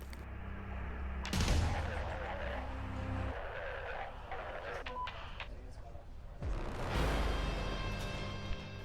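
Gunfire and explosive blasts from an FPV combat drone simulator game as a drone strikes an enemy KamAZ truck, loud bursts near the start and again later over a dense, continuous rumble of game effects and engine noise, with someone talking over it.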